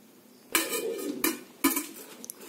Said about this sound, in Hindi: इसके ऊपर कोई भारी बर्तन रखकर